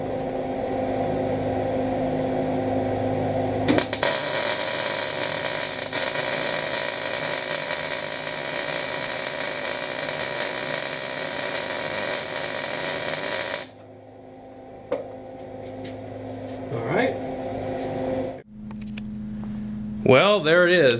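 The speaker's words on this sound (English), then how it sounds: "now we're going to go ahead and start welding this guy up" A steel chop saw stand being MIG welded with a push technique, giving a loud, steady crackling hiss that holds for about ten seconds before cutting off, followed by quieter shop noises.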